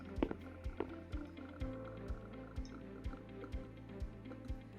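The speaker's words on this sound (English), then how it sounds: "next I am going to go ahead and add 1/4 cup of olive oil" A quarter cup of olive oil is poured into a homemade pizza dough mixture, producing soft, close drips and gentle liquid plops in an uneven rhythm.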